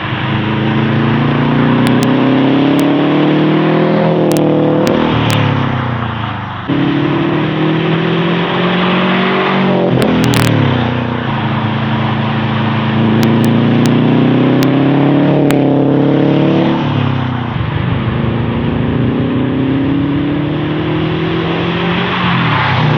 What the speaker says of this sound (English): let us know what you guys think about Camacho's exhaust and the added toe strap on the end there